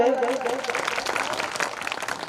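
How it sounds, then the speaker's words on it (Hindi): Audience clapping at a Hindi comedy parody poetry event, a moderate patter of many hands with a voice audible at the start and some talk running under the applause. "एक बार जोरदार ताली हो जाए।"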